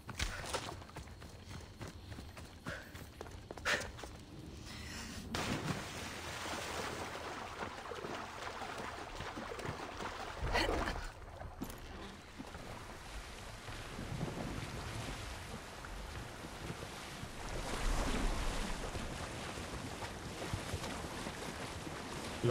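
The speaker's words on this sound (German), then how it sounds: "Und jetzt noch ein Boot, bitte." A boat sails on the sea in Assassin's Creed Odyssey, carried by steady rushing wind and water noise with occasional knocks and creaks, fairly loud and without speech.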